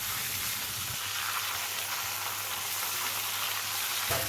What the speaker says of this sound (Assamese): আৰু এইফালে দেখিছিলে আমাৰ মাছৰ মাথাটো ধুনীয়াকৈ ভজা হৈ গৈছে দেই।